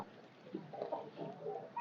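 Chickens cluck softly in a short, low, burbling run of calls, fairly close but quiet, with no other sounds over them.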